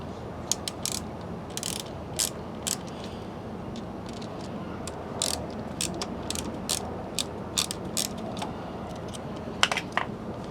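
A screwdriver works loose the last, hard-to-reach screw while a Sherman S is unboxed, making rapid, uneven ratcheting clicks in a steady series at close range over a faint background hum, with no voices.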